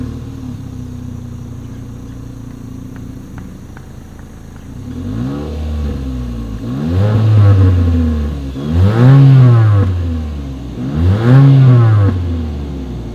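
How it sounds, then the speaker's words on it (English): A 2020 Mitsubishi Eclipse Cross idles steadily, then its engine is revved three times in a row, each rev rising sharply and falling back to idle, loud and close at the exhaust. "As always, here is that exhaust clip."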